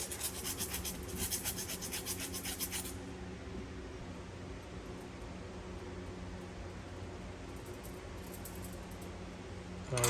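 A small file scrapes burrs off a clutch line clamp, heard as faint, steady, close-up rubbing strokes that are busier in the first few seconds and then quieter. No one speaks.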